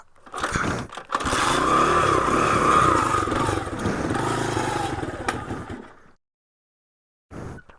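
Engine of a 1986 Honda ATC200X three-wheeler starts and runs loud and close, a rough buzzing roar with some throttle variation for several seconds, then cuts out into silence before a brief burst returns.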